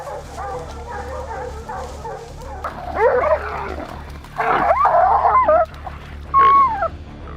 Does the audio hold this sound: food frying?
no